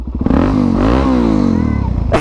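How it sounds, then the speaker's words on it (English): A motorcycle engine is revved up close, its rising and falling harmonic pitch sweeping over about two seconds, loud and steady throughout. "You wanna rev it again?"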